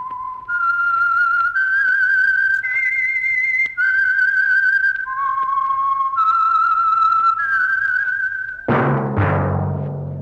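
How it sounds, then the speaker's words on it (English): The whistled theme of The Whistler radio program is a clear, solo melody of sustained, steady notes stepping up and down over a faint low hum, ending on a sudden sharp orchestral chord. "That whistle is your signal for the Signal Oil Program, The Whistler."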